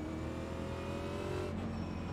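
Race car engine held in a long first gear in an oval racing simulator at Watkins Glen, droning steadily and loud with a tonal whine throughout, alone with no talk.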